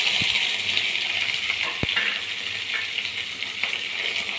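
Curry leaves and onion fry in a pan with crushed garlic and dried chillies, making a loud, close, continuous sizzle broken by one bright metallic clink from a utensil.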